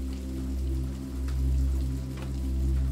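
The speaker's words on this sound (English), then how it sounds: "The gentle cadence of the rain serves as a sound that delivers you to sleep" Rain falls steadily at night in a stormy setting, with soft patter and scattered drops over a constant low hum whose level gently swells and fades.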